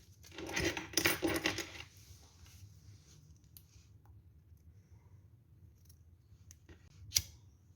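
Scissors cut thick nautical yarn while finishing a crocheted bag: a quick cluster of crisp, close snips at the start, then quiet, then one sharp click near the end.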